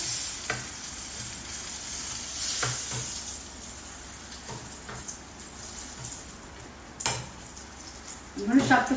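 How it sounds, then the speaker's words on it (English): Chilies frying in a pan give a steady, close sizzle with occasional stirring scrapes and light utensil knocks, and a voice briefly speaks near the end. "As you can see, the chilies are cooking well in here."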